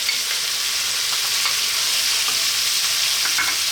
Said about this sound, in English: At this point, we're now going to add in our onion